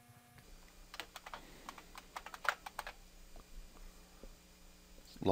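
Computer keyboard being typed on at a quiet, close distance during a Lubuntu installation in VirtualBox, a run of light clicky keystrokes with a few separate presses toward the end.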